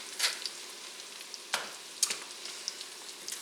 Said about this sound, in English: Give the onions a stir just to coat them with the butter and the olive oil